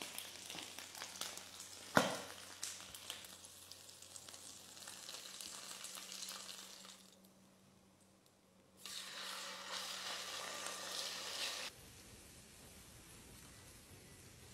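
Pork belly (liempo) frying in plenty of hot oil, a steady loud sizzle with crackling bursts near the start, easing off midway, then flaring up again before falling to a softer hiss.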